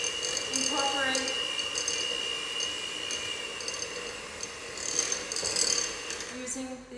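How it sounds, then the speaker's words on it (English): An electric mixer runs on low speed, mixing chocolate chip cookie dough as sifted flour is worked in, giving a steady whirring, gently rattling drone with slight shifts in pitch. "using the electric mixer on low speed"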